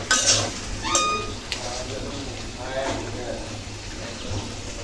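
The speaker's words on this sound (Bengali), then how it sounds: "টমেটোগুলো এভাবে নেড়ে ছেড়ে দিয়ে দিতে হবে একটু পরপর যেন কড়াই তলে চট করে লেগে না যায়" Tomatoes being stirred in a karai for a rui fish curry, with a spatula clinking and scraping against the metal pan every second or so over a low, soft cooking hiss.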